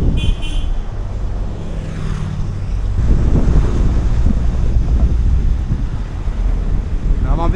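A bus in Chiang Rai, Thailand, rolling along with its door left open, engine rumble and rushing wind noise filling the air, heavy and close, with a short high beep near the start.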